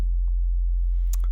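Steady, loud low sine wave tone from the Vital software synthesizer holding a single note, continuous and unbroken, with a couple of faint clicks near the end.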